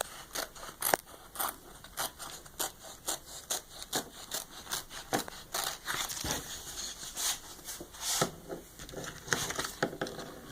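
Scissors trimming a stamp board, a series of close, crisp snipping cuts in an irregular rhythm, about a dozen or more distinct clips with soft rustling of the material between them.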